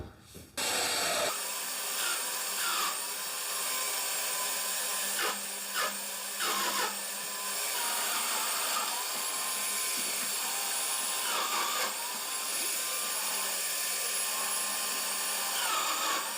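A domino joiner cuts alignment mortises into the wood of a home bar top, a steady high-pitched motor whine with dust-extraction hiss running throughout, interrupted by brief plunging cuts and short pauses.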